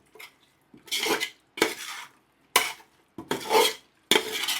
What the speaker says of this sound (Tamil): தயிர் போட்டு இதை கிண்டி விட்டுட்டு நல்லா ஸ்ப்ரெட் ஆகிற மாதிரி தயிர்